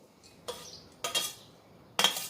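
A large metal pot clanks as grated mango is added for pickle and murabba, with three sharp metallic knocks spaced about half a second apart, close and clear.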